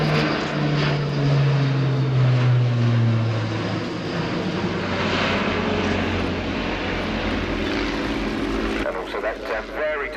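An Airbus A400M Atlas four-engine turboprop military transport roars through a steep, tight flying-display turn at the RIAT 2017 airshow, a loud continuous propeller drone with a falling pitch sweep, close and sustained throughout.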